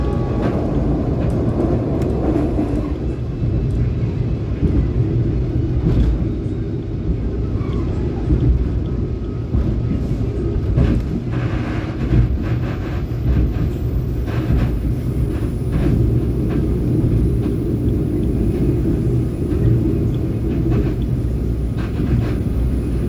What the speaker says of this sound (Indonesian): Kereta api Jayakarta akan segera melintas di terowongan Notok ya.